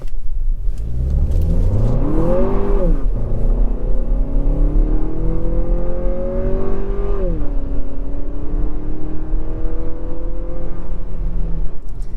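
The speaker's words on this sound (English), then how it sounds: "We are going to try a 0 to 60 test." A 2023 Lexus RX350 Luxury with front-wheel drive and a turbo engine accelerates hard from a standstill toward 60 mph, its revs climbing through two clear gear shifts, loud and steady from inside the cabin with no talking.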